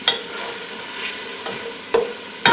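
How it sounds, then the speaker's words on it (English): Onions cook in a pan for homemade tomato ketchup, giving a steady close sizzle broken by a few sharp stirring scrapes, with no talking. "As the onions cook"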